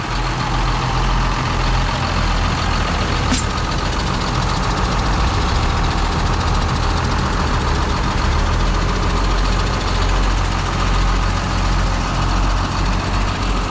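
A heavy engine with over 12,000 operating hours idles with a loud, steady rumble that holds unchanged throughout, with no voices over it.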